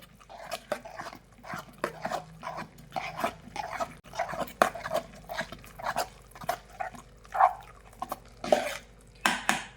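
A spoon stirs melting butter in a pot to make ghee, clinking and scraping against the metal in quick, irregular strokes that continue steadily and close by.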